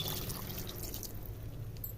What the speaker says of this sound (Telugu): ఒక గిన్నెడు వాటర్ వేస్తున్నాను